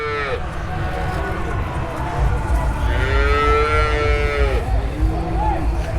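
A Jersey dairy cow at the busy Anthiyur cattle market gives long, drawn-out moos, with several low calls in sequence over a steady crowd murmur.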